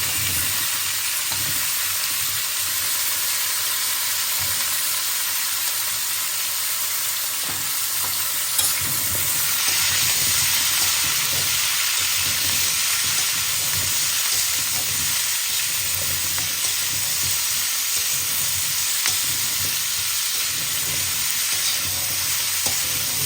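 Prawns and cauliflower frying in a pan give a steady, close sizzle that runs unbroken throughout, with faint stirring scrapes now and then and no voices.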